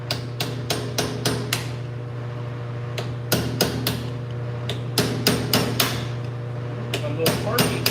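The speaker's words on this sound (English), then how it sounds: "Now, Snap-on says you're not supposed to hammer on this tool." Sharp metallic hammer blows strike a Snap-on mechanic's tool in irregular bursts of several quick hits, loud and close, separated by short pauses over a steady background hum.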